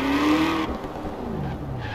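A race car engine in Forza Horizon 4, a Jimmie Johnson Camaro ZL1, roars, opening with a brief tire squeal before the engine drones on, moderately loud.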